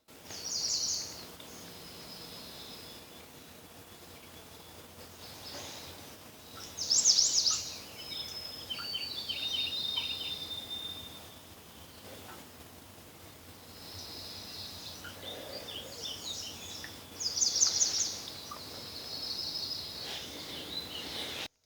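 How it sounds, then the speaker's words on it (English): Several birds sing intermittently in the distance, high chirping phrases coming in bursts over a quiet outdoor background with faint insect hum. "Got a ton of birds making a bunch of songs."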